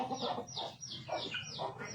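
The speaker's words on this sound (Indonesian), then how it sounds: "Saya bingung ini ayam." A chicken clucks in a rapid series of close, fairly loud calls, repeating rhythmically several times with no talking.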